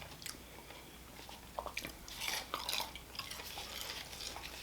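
Someone bites into double-fried fries that were blanched and then fried again, making close, crisp crunching and chewing sounds at low volume over a quiet room.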